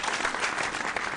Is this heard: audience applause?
yes